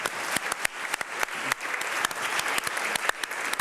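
Conference audience applauding at a pitch final, a close, lively burst of many people clapping with sharp individual claps standing out, sustained throughout without voices.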